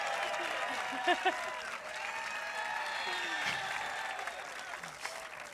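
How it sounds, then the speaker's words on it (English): Audience at a live college football preview show in Columbus claps steadily, a sustained wash of applause with a few louder individual claps and cheers mixed in. "the best applause we've had all night"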